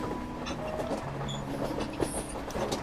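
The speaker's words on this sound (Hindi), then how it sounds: "ऐसा लगता है मानो बीच पहाड़ों को चीरती हुई हमारी ट्रेन चली जा रही है।" A passenger train rolls steadily through hilly country in Mizoram, carrying a continuous low rumble with light rail clatter and brief squeaks.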